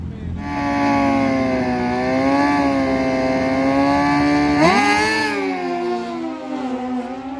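Suzuki GSXR 1000 and Kawasaki ZX-14R drag-racing motorcycles rev at a drag strip, a loud sustained high engine whine that climbs sharply just past the midpoint, with a commentator talking over it.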